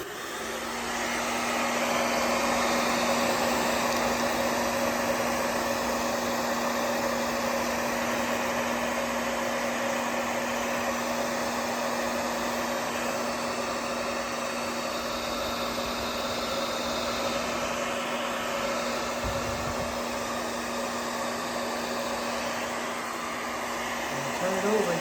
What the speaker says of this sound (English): So then we take our hairdryer, try to send the remote inside the bag there.